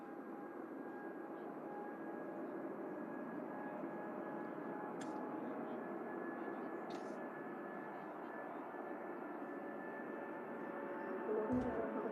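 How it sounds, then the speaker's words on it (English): A Gulf Air Boeing 787 Dreamliner rolls down a snowy runway at Manchester Airport, a faint, steady distant jet engine rumble that holds evenly throughout, with no talk. "Gulf Dreamliner now rolling down 2-3 right."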